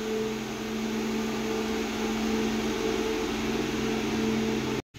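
Heavily loaded Tata truck engine pulling up an incline, a steady droning hum with a constant low tone and broad rumble throughout, cutting off abruptly just before the end.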